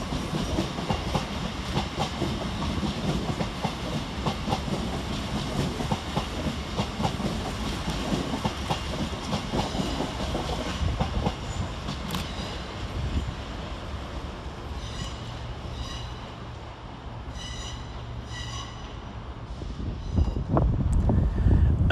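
LNER Class 801 unit 801 220 pulls out of Doncaster station, a steady rumble of traction and rolling wheels with clickety-clack over the rail joints, fairly close and continuous, a few squeals and a rising roar toward the end.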